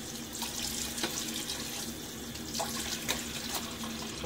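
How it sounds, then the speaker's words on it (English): Tap water running into a sink and splashed onto a face during a morning shave routine, with a steady close stream broken by several brief sharper splashes. "Give my face another splash of water."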